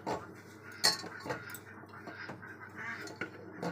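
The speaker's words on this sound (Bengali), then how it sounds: "প্রথমে প্রেসারের মধ্যে আমি ডিমগুলো দিয়ে দিলাম" Eggs are set into a pressure cooker one after another, producing several sharp clinks and taps against the metal pot at an uneven pace, close and fairly quiet.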